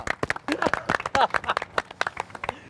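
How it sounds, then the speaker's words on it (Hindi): A comedy-show audience claps in short bursts, sharp individual hand claps in an uneven rhythm, fairly close and brief, with a voice briefly heard among them. "हपर हपर तालियां"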